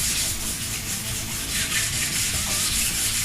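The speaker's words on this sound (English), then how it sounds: "So that tells people I got to sand it. So sand it. Don't be afraid to sand it." Sandpaper rubs back and forth across a surface being prepped for paint, a close, steady, gritty scratching that continues without pause.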